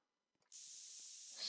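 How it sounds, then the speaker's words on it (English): Spray paint hisses from a can in a video game, a steady loud airy spray that starts abruptly after a moment of near silence and holds to the end. "We're gonna put spray paint on their base."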